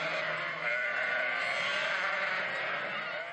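Lambs and ewes bleating in a crowded sheepfold in Konya, a dense continuous chorus of many overlapping cries, loud and close throughout.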